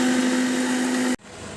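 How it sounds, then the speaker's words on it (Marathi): A mixer grinder whirs loudly and steadily while grinding dry green coriander chutney, then cuts off abruptly near the end, leaving a faint quieter background. "आता हे आपण आपल्या मिक्सरवर ग्राइंड करून घेणार आहोत."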